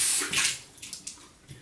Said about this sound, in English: just wash out the face